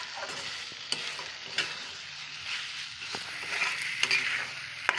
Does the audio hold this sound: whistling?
no